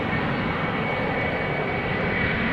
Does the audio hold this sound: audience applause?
no